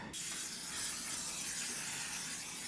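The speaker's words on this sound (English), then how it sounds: "Oil the pan. The pan. So it doesn't stick." An oil spray mists onto a pan for taco cooking in one continuous hiss that starts abruptly, holds steady and close for a couple of seconds, then cuts off.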